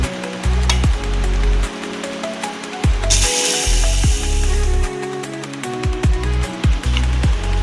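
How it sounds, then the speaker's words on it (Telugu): A mixer grinder whirs through soaked ragi (finger millet) paste in loud, close bursts. The motor spins up and cuts off repeatedly with short pauses between runs. "ఇంకా కొద్దిగా మనం మెత్తగా గ్రైండ్ చేసుకోవాలి ఫ్రెండ్స్."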